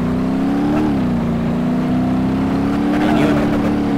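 A Civetta Bolide sports car in BeamNG Drive holds a loud, steady engine drone that dips briefly, then climbs again as it revs, close and continuous throughout.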